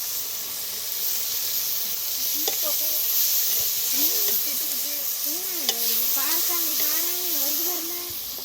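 Onion, tomato and ginger-garlic paste sautéing in oil for a squid gravy, a steady close sizzle with scraping stirs, while someone talks over it in a singsong voice.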